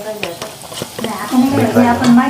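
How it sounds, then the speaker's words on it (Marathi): Red chili powder and ginger-garlic paste being stirred into frying onions in a pan, scraping stirs and a sizzle, with a voice speaking over the cooking. "याच्यामध्ये थोडस लाल तिखट मग अशी सांगितल्याप्रमाणे लाल तिखट आलं लसणाची पेस्ट हे मिक्स करून घ्यायचे"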